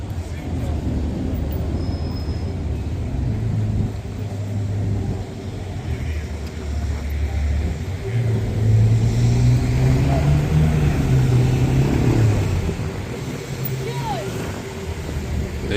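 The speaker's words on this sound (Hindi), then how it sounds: "फरारी देखें, फरारी।" Ferrari sports car driving past on Sloane Street, London, engine note swelling and fading over steady city traffic hum, with a person talking nearby.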